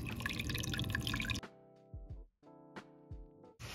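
Water trickles and drips into a container to wet the bottoms of passion fruit cuttings, beginning with a steady pour that breaks off into a few separate, close drips in quiet surroundings.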